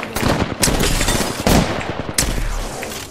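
Gunfire in the video game Apex Legends, loud rapid bursts of automatic fire and separate heavy shots, close and punchy, with brief pauses between bursts.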